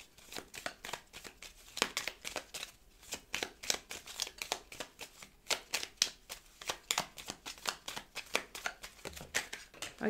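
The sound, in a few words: tarot cards being shuffled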